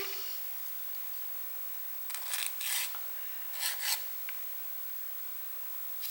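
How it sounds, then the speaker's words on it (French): A hand file rasping a small craft piece flat for a bead, heard as two short bursts of close scraping strokes, each burst a few quick rubs, with quiet pauses between. "Alors je vais limer un tout petit peu aussi ici"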